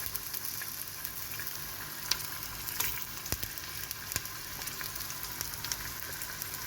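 Bone-in meat pieces frying in a pressure cooker pot, sizzling steadily and close with occasional crackles and light stirring clicks, no voices.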